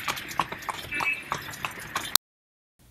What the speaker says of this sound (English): us riding this horse through the city